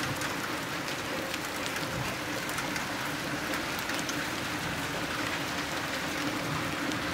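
Heavy thunderstorm rain pours steadily in Jelgava, Latvia, a dense, continuous hiss of downpour close by with no breaks.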